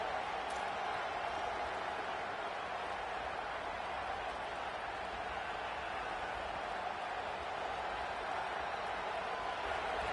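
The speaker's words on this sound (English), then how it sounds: "Big third down as the crowd gets behind this defense." Steady crowd roar from a stadium in a college football video game, a dense continuous wash of cheering holding at an even level throughout, with no clear voices on top.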